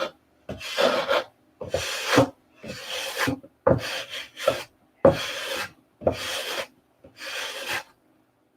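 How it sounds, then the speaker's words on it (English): Hand sanding of an aircraft part, rounding it from high spots to low, heard as eight or so close, rhythmic rasping strokes, each about half a second long with short silent gaps between. "you want to sand it round from the high to the low to shape it"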